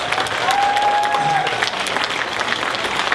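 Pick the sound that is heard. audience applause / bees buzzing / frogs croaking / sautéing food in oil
audience applause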